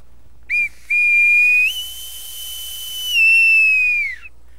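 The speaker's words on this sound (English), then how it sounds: "Usually a man, a boatswain, would blow a pipe or whistle to announce it." A boatswain's pipe sounds a call for all hands: a short shrill chirp, then a long high whistle that rises, holds and slides back down before stopping, loud and close.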